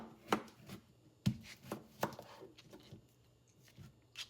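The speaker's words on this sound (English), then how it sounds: "Next, I began chopping up my vegetables." A knife chops vegetables for a juice on a cutting board, giving about eight sharp, close strikes in an uneven rhythm with quiet pauses between them.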